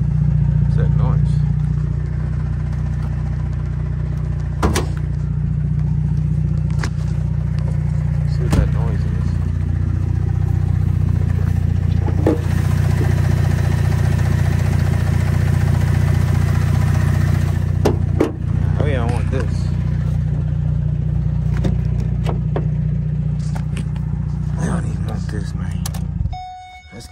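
A six-cylinder engine of an Infiniti M37S runs steadily at idle, a close, continuous low drone lasting throughout with a few faint clicks and brief rising blips, fading out at the end.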